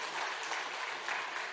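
A church congregation applauding during a Sunday worship service, a soft, steady patter of many hands clapping at a moderate distance.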